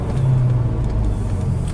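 Volkswagen R32 with the 3.2 VR6 engine and dogbone mount insert, downshifting in sport mode: a steady, close, loud low engine drone with a brief rising rev blip, with no talking over it.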